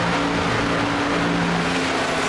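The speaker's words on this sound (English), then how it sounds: "Because the engine volume is really loud." A race car engine in the iRacing sim at Charlotte drones loud and steady, with a constant high-revving whine and no gear changes or speech.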